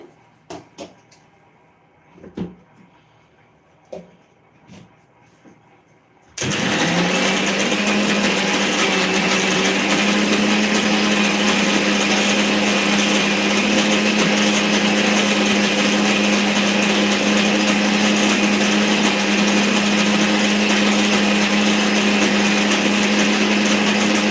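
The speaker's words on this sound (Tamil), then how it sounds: "இன்னும் கொஞ்சம் கூட நைஸாக அரைச்சிக்கலாம்" A mixer grinder whirs loudly and steadily for a long stretch, grinding Tirunelveli-style coriander thuvaiyal after a few soft knocks and clatters at the start.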